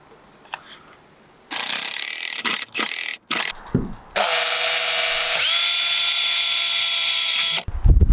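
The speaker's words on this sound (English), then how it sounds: "we're gonna have to drill pilot holes" A power drill bores pilot holes into an RV skylight during a skoolie bus conversion, close and loud: several short bursts, then one long steady whirring run, with no talking.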